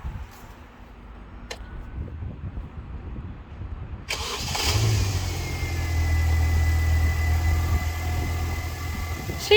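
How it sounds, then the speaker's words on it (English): A MINI R50 engine cranks and catches at about four seconds, then settles into a steady idle that rises slightly. It is close and moderately loud, with quiet background before the start and no talk. "we'll start the engine so you can hear"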